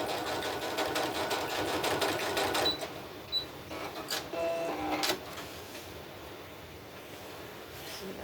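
Sewing machine stitching a crumb crazy quilt block, running steadily and fairly close for most of the stretch, with a brief pause and a few small clicks partway through.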